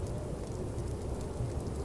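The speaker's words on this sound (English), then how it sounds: "He listened to the rain pitter-patter, pitter-patter, pitter-patter, pitter-patter against the needles and leaves overhead" Rain patters steadily on pine needles and leaves overhead in a forest, a soft continuous hiss with a low rumbling undertone, even and unbroken throughout.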